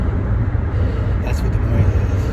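Steady low rumble of a borrowed pickup truck driving along a road, heard from inside the cab as continuous loud engine and road noise.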